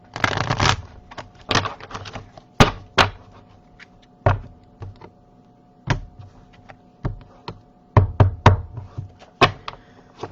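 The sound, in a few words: three knocks on a tarot card deck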